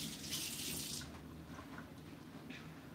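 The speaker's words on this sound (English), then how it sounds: "I need to rinse my fingers real quick." Tap water runs into a kitchen sink as fingers are rinsed, a brief steady hiss that is strongest in the first second and then thins to a quieter trickle, faint and alone.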